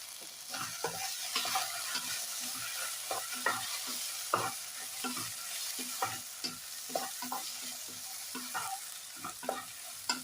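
Ground spice powders, chilli powder among them, being stirred and fried over low heat in a pan for vendakka theeyal, with repeated scraping strokes over a steady sizzle and no talking.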